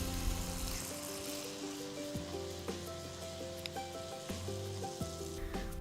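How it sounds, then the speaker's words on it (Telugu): Batter-coated poornam balls frying in hot oil for a festival snack, with a steady crackling sizzle and scattered pops, up close and continuous. "ఇప్పుడు పూర్ణం ఉండల్ని తీసుకొని వాటిని పిండిలో అన్ని వైపుల కోట్ అయ్యేట్టు ముంచి వేడి నూనెలో నెమ్మదిగా వేసుకోవాలి"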